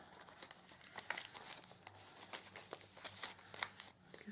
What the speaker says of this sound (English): Now I'm going to pop these gorgeous paper flowers in.